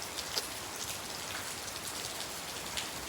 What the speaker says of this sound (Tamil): மழை ஒரே இறைச்சலாக இறங்கின்னு பெய்யுது.